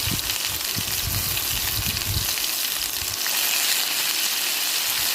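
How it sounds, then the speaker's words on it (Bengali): Pointed gourd (potol) frying in oil in a pan, a loud dense hissing sizzle throughout, with some low bubbling and shifting in the first few seconds as the pieces are turned. "পটলগুলো এইভাবে ভাজতে কিছুক্ষণ সময় লাগে, উল্টে পাল্টে সব কটা যেহেতু ভাজছি।"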